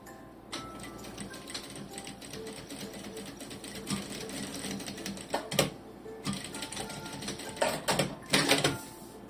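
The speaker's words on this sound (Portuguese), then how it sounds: "vou então agora fazer uma costura pé de máquina" Sewing machine running a seam on a lined toiletry bag, close and moderately loud, with rapid stitching bursts, brief stops and sharp clicks and knocks from handling the fabric and machine, and no talking.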